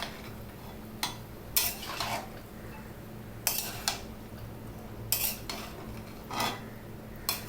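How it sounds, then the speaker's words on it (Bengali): Eggplant pieces are stirred into spices in a pan, giving repeated bursts of scraping and metal clatter spaced a second or so apart over a quiet background, without speech. "বেগুনটা দিয়ে মশলার সাথে ভালো করে মিশিয়ে নিতে হবে।"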